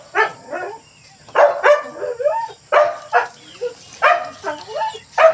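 A dog barks in a string of close, sharp bursts, about eight in quick succession, some breaking into higher yips and whimpering whines between them.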